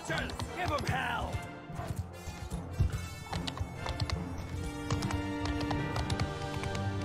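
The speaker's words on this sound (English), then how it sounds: "Horses, charge!" Horses charge in battle in the game Mount & Blade II: Bannerlord, with loud clip-clop hoofbeats, whinnies and clashing sounds over a busy game mix, while someone shouts commands.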